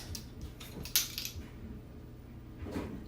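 Metal measuring spoons clink and rattle against each other while being handled during cooking of spicy bean cakes, a few light close jangles with one sharper clack.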